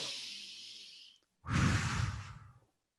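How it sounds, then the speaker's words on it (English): A single deep breath in, a long airy inhale that fades, a short pause, then a fuller, louder breathy rush close to the microphone. "if we take a deep breath in"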